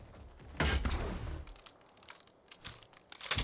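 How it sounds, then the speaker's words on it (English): A net gun fires in the video game ARK: Survival Evolved, giving one sharp, crackling shot near the start followed by faint clicks and a few smaller cracks. "the net gun does work on the Megatheriums"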